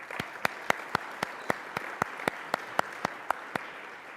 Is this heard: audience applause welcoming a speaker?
yes